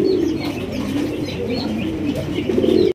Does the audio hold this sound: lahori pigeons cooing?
yes